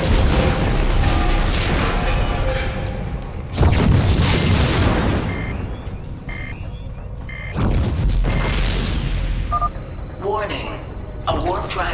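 A warp drive blows apart in StarCraft 2 with heavy booming bursts that recur in loud surges, mixed with game alarm tones and an announcer's voice.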